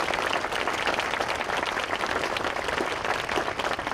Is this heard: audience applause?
yes